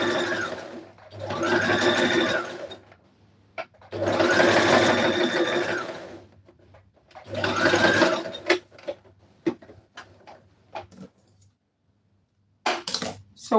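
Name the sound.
sewing machine sewing spaced zigzag stitch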